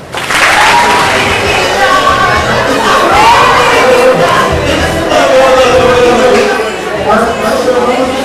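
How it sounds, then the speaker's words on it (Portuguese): A crowd at a physics show claps and cheers loudly throughout, with children shouting and voices mixed into the continuous applause. "Palmas para ela."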